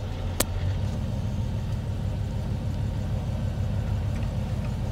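Old GMC K2500 truck with a 6.0 LS V8 and Muncie SM465 gearbox driving, a steady low engine and road rumble inside the cab with constant wind noise from worn window felts, plus one brief sharp click near the start.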